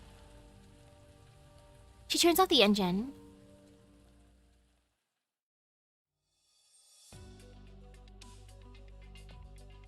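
Rain sound effect from the Arknights video game, a steady patter beneath a brief line of spoken narration. It drops to silence, then returns as a softer, continuous drizzle.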